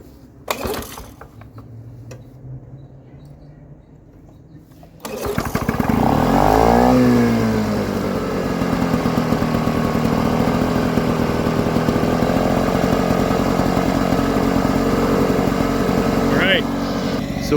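A Lawn Boy lawn mower, just fitted with a new crank seal, sounds faint handling noises, then its engine fires up loudly and revs before settling into a steady, close, continuous drone.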